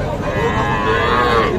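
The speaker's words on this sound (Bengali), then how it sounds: "ষাঁড় বাচ্চা কিন্তু" A young bull calf moos loudly and steadily at a busy cattle market, its drawn-out call close and continuous against a dense background of crowd noise.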